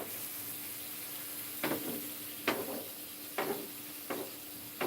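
Beer poured over onions frying for a burger, a steady sizzling hiss broken by four or five short splashing bursts as liquid hits the hot pan, close and fairly loud.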